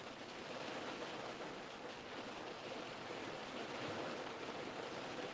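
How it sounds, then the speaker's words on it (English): Heavy pouring rain drumming on a pickup truck from inside the cab, a steady broadband wash that stays constant throughout with no talk. "I am sitting in my pickup truck in the pouring rain."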